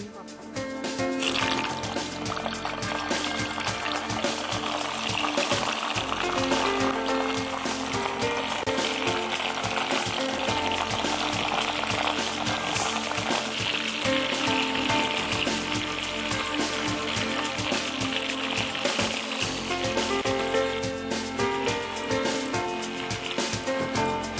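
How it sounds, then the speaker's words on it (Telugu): Mutton deep frying in hot oil, a steady, dense sizzle and crackle that goes on unbroken, close and loud, through the whole stretch. "మటన్ డీప్ ఫ్రై చేసుకోవాలి."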